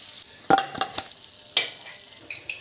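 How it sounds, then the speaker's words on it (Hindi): Papdi crisps made from maida and besan frying in hot oil, with a soft background sizzle broken by several sharp clattering stirring knocks as they are turned, close and moderately loud. "इनको हम पलट लेते हैं और गोल्डन कलर की होने तक सेकेंगे।"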